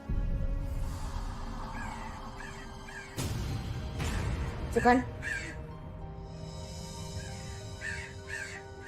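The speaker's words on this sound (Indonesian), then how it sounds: "Burung gagak. Ini suara burung gagak." Crows caw several times during a dramatic indoor scene, the harsh calls rising over steady background tones while people talk.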